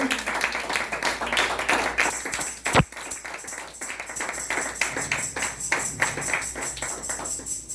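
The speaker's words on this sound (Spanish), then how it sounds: "Bríndele un fuerte aplauso al Señor." A church congregation applauds, rhythmic clapping in bursts with a sharp knock partway through, moderately loud in a reverberant room, settling into softer scattered clapping toward the end.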